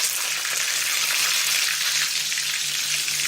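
Frozen aloo tikki potato patties sizzle steadily in hot oil, a dense, continuous crackling fry heard up close with no talking.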